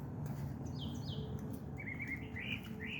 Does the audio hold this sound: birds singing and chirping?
yes